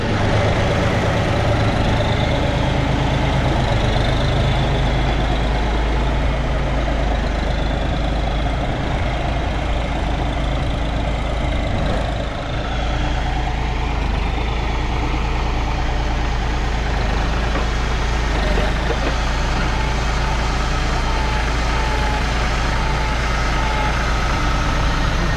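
John Deere tractor engine idling on a farm, a loud, steady low diesel rumble that holds without a break for the whole stretch.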